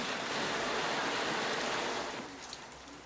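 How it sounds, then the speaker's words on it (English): Steady, heavy pouring rain hisses as a broad wash of noise that holds for about two seconds, then eases slightly, with no voices over it. "Right now it's pouring rain!"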